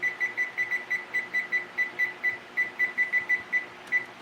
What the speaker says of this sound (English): so we'll put the timer on there.